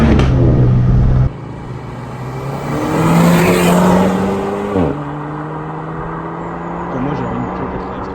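Renault Sport Trophy car heard from outside, its engine loud and close, rising and revving with a clear gear change midway before settling, while people talk over it.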